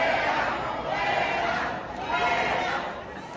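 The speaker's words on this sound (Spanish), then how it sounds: "aquí viene el momento donde ponen primero los abucheos" A recorded crowd booing a governor, a sustained roar of many jeering voices with some chatter mixed in, loud and continuous, dipping briefly near the end.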